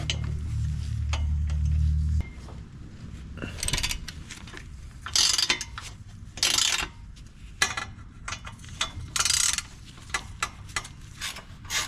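A ratchet tightens exhaust bolts under a Subaru WRX, giving short bursts of rapid clicking separated by pauses and light metallic clinks, close up; a brief low mechanical hum comes before the ratcheting starts.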